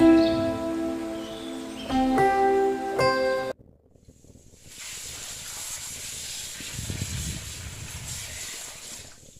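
A pressure cooker boiling potatoes and duck eggs hisses steadily as steam escapes, a continuous broadband rush that follows a few seconds of tonal music and a brief pause.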